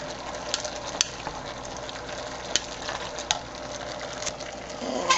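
Softened potatoes and onions get stirred in a soup pot, giving a quiet sizzle with a few sharp scrapes and clinks of the spoon against the pot.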